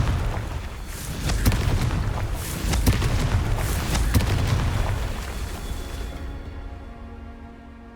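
Blasting-spell explosions boom in Hogwarts Legacy, a burst of several heavy, rumbling blasts with sharp cracks that fade into a ringing tail after about six seconds.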